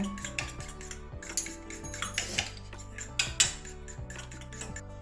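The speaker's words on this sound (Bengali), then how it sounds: "সমস্ত মশলাগুলো এভাবে ফেটিয়ে মিশিয়ে নেব" Egg and spices whisked together in a bowl for a Bengali cauliflower fritter curry, a steady clinking of whisk or spoon against the dish with a few sharper knocks, close and moderately loud, no talking.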